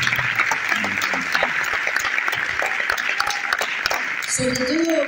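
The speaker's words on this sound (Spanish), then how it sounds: "darles un fuerte aplauso a todos ustedes" Applause from a seated audience at a business presentation in Córdoba, loud and continuous for the whole stretch, with a few voices and cheers mixed into the clapping.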